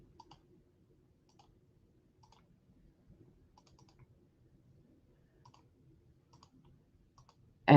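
Faint, crisp computer mouse clicks at an uneven pace, some in quick double pairs, in a quiet room with a soft background hum.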